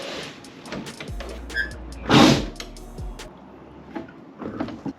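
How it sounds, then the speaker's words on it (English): An electric go-kart built with Surron parts has its motor spinning in reverse, heard as a low rising and falling electric whine among clunks and a brief loud mechanical rattle, fairly close. "that motor's in reverse"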